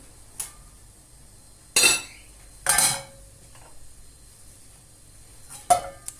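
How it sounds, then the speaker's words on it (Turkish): Raw potato pieces poured into a hot pan for a fried-potato omelette, giving two loud sizzling bursts close by, a few faint clinks of utensils between them and a last short sizzle near the end. "Hemen arkasından patatesleri dökelim."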